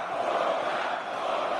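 Loud arena crowd roaring at a UFC bout between Felder and Hooker, a dense continuous wall of cheering voices filling the space with no clear breaks.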